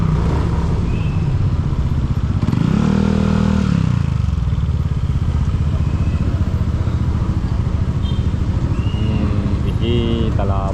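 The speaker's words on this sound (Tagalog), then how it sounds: "Pumuputok, putok, putok ang kanyang tambutso" Motorcycle rumbling in traffic with its exhaust popping and crackling, a loud continuous engine drone with rough bursts, close by, while traffic noise and a faint revving rise and fall around it.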